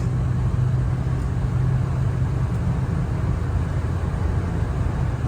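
A 1978 Lincoln Continental out driving after years parked, a steady low engine rumble with road noise, even and continuous from inside the car, with no gear change clearly marked.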